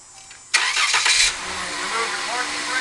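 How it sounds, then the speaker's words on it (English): A Dodge Journey engine starts with a sharp crank and catch, revs briefly for under a second, then settles into a steady close idle that continues to the end. "We'll fire up the vehicle."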